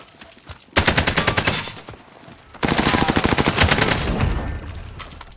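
Rapid automatic gunfire from a video game shooter rattles out in two long, dense bursts, the first after a brief quiet lead-in and the second running almost to the end, loud and close with no talk over it.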